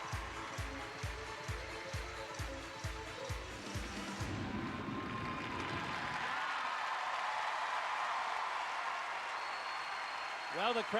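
A figure skating arena crowd at Staples Center applauds and cheers a skater, rhythmic music pulses first, then a broad roar of clapping swells and holds, fairly distant, with a commentator's voice over it.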